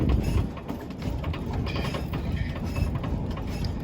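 The Yosemite mountain steam train rolls downhill with a steady rumble, rattling cars and scattered metallic clicks and clanks, heard close and continuous throughout.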